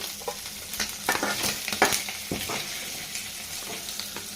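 Spices temper in hot oil in a pan for a dried fish and gongura curry, a soft steady sizzle broken by scraping stirs, close and fairly quiet with no voices.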